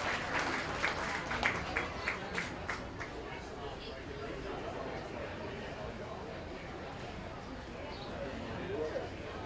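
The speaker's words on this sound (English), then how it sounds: "Let's give him a nice round of applause." Audience clapping at a county fair swine show, a burst of applause in the first few seconds that fades into a busy, murmuring crowd background.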